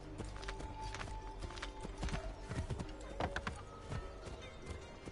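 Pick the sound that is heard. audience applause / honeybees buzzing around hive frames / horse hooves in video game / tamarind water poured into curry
horse hooves in video game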